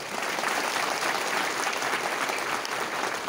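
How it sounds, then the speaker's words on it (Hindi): An audience applauding for Apollo officials at a tele-emergency event, a dense, even roar of clapping from many people, steady and moderately loud throughout with no voices over it. "प्लीज इनके लिए बहुत बड़ा ताली दीजिए"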